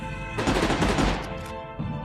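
Rapid gunfire bursts from a weapon in the video game Unearthed: Trail of Ibn Battuta, a loud dense volley lasting over a second, then a brief pause and another shot.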